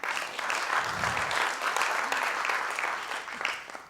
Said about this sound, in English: please a warm applause for them too